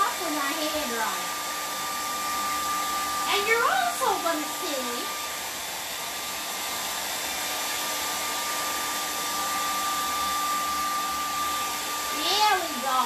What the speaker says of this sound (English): you got to dry her off with our hair dryer